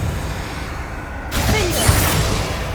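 A Confringo blasting spell explodes in the video game Hogwarts Legacy, a sudden broad burst that cuts in partway through and rumbles on, preceded by a quieter low hum.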